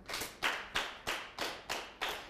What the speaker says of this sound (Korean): 우리 박수 4번 한번 쳐볼까요?